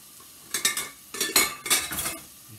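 A wooden spoon stirs curried butternut squash soup in a pot, making a few quick scraping and knocking strokes in short bursts over faint sizzling oil, with no talking.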